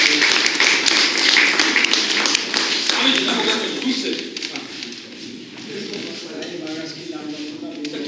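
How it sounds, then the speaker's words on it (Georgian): An audience at a poet's meeting in a writers' house applauds, a dense burst of clapping that fades gradually, with voices talking over it. "გამოგზავნდი კარგი მაგარი აპლოდისმენტები მეგობრებო"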